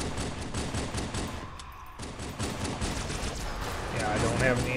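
Dense, loud bursts of automatic gunfire and explosions fill the action of Halo 2 Anniversary on PC, a continuous barrage with only a brief lull before it resumes.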